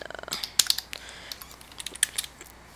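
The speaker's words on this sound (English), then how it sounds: "Your typing is really annoying." Rapid clicky keystrokes on a computer keyboard during a Minecraft session, close and fairly crisp, in uneven bursts with a few sharper taps.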